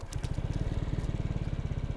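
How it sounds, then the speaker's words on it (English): SYM Mamba (MMBCU, Wild 160) scooter with a 160cc liquid-cooled engine running steadily while riding, a close, continuous low throbbing engine note with a fast regular pulse and faint wind noise. "I'm eager to test out this 160cc liquid cooled engine"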